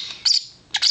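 Lovebirds squawk in a crowded weaning cage, two sharp shrill bursts close by, separated by a brief gap.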